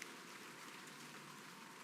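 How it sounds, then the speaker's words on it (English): Steady outdoor rain falls in a soft, even hiss with no distinct drops standing out, fairly faint and continuous throughout. "Oh, it's raining."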